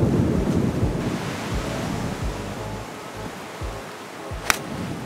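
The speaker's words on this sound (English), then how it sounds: "Again, the wind is crazy right now." Strong wind gusts across an Austin golf course, Grey Rock Golf Club, roar and buffet loudly and steadily for the whole stretch, with a single sharp click near the end.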